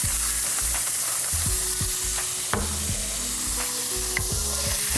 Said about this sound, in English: sort of using the moisture coming out of the celery and onions to help start deglazing the pan